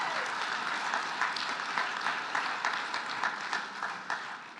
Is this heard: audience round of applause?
yes